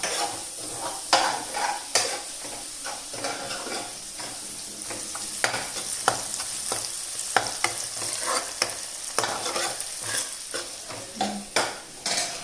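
Chickpeas being tempered in hot oil in a village home kitchen with spinach, tomato and spices, a spoon scraping and stirring the pan with repeated clinks over a steady sizzle, no voices.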